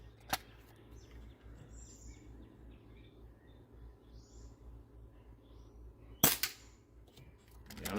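Hwasan/Farsan target-series airsoft pistol firing at targets: two sharp cracks stand out against a quiet background, one near the start and another about six seconds later, with a smaller snap right after the second.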